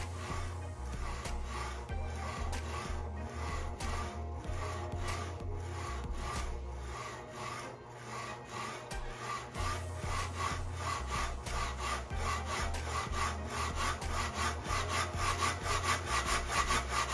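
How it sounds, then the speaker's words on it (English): A Sand Shark hand sanding machine grinds steadily against an old knife blade, a continuous rasping whir with rhythmic scraping pulses, close and loud, no voices. "I'm sanding on an old knife just for practice."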